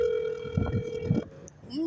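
An unanswered telephone call produces a steady electronic ringing tone that drones, then briefly breaks off before resuming, with some murmured talk underneath.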